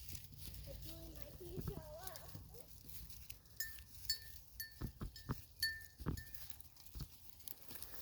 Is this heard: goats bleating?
yes